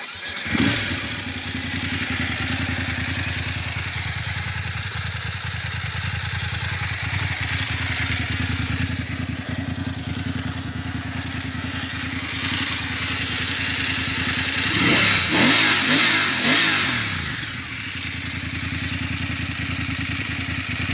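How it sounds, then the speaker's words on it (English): A BMW F750GS motorcycle fires up nearby and settles into a steady, throaty idle, then the twin engine revs up sharply several times around the middle before dropping back to idle; no talking. "Right, I'll start her up, see what she sounds like."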